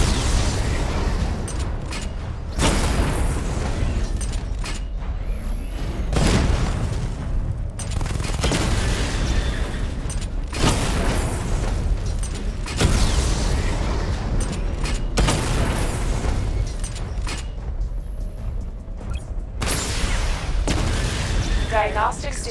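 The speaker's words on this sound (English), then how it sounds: "Charge the missile barrage to level 2 to destroy up to 4 targets at once." Missile barrage explosions in the video game Batman Arkham Knight, a series of loud booming blasts and mechanical rumbles recurring every few seconds over a dense, continuous background of game noise.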